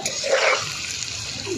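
Water splashes into a cooking pan over salted, turmeric-seasoned fried taro, a short, bright pour that fades quickly.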